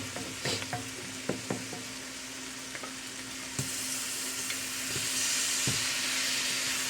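Shrimp and onions fry in a pan, a steady sizzle that builds louder midway, punctuated by sharp scrapes and taps of a utensil stirring them, with no voices.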